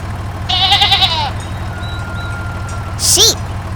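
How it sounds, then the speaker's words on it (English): A sheep on a farm gives two short bleats, one early and one near the end, over a steady low engine-like rumble and a faint beeping in the background. "Sheep."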